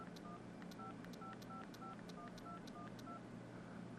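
Keypad tones from a Motorola Krave ZN4 touchscreen phone as a number is entered: about a dozen short, evenly spaced dial beeps over a steady low hum, close and fairly quiet.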